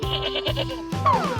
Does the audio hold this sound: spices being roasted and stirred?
no